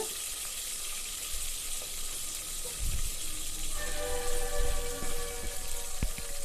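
Ginger-garlic paste and green vegetables fry in a pan for pulao with a continuous hissing sizzle that swells louder partway through, broken by a few utensil clinks and stirring scrapes, with no talking.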